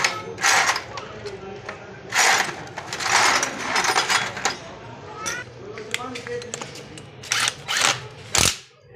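Ratchet and wrench clicks come in short bursts as cylinder head bolts are tightened on a Honda CG 125 motorcycle engine, close up, with someone talking between the bursts.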